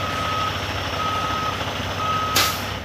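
A newspaper delivery truck from Quebec arrives in Burlington at dawn and backs up, its reversing alarm beeping three times at a steady half-second rhythm over a low idling engine hum, ending with a short hiss.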